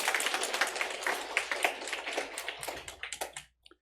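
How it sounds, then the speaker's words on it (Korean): A Sunday worship congregation at a Korean church claps vigorously in encouragement, a crisp, busy patter of many hands that tapers off into a few last scattered claps before falling silent. "다시 한번 힘차게 박수로 격려하겠습니다."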